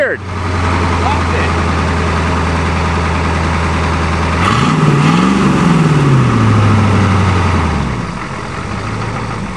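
A Ford F250 diesel truck engine is pull-started, settling into a loud, close rough idle that rises and dips briefly in pitch as it catches, with people talking over it.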